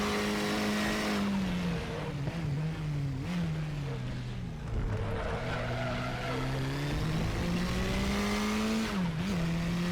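A KTM X-Bow RR racing around the Red Bull Ring in the RaceRoom driving game, its engine droning loudly and continuously, revs dipping and climbing through gear changes and corners.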